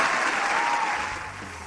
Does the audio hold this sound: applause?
yes